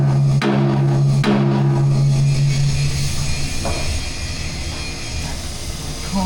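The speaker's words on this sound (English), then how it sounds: "Might have to bash it with a hammer." Two sharp hammer strikes on the metal of a 37mm gun being fitted to a Grant tank ring out early, leaving a lingering tonal ring, followed by softer clatter and background noise.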